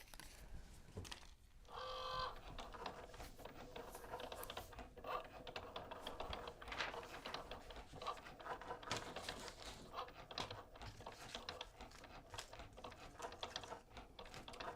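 A Cricut cutting machine cuts gift tags, producing faint, busy mechanical ticking and whirring as the carriage moves, continuous and fairly quiet with some nearby handling noise.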